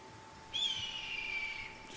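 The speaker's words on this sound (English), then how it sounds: "Just heard a hawk." A faint, thin descending hawk screech in theHunter: Call of the Wild rises briefly over a quiet background hum, like a distant hawk cry.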